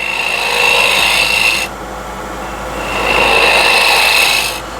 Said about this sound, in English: So this is asymmetric curved scraper.